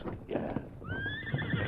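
A horse gives a high, drawn-out neigh near the middle, over low hoof clops and outdoor rumble in a western radio drama scene, with a brief spoken word just before.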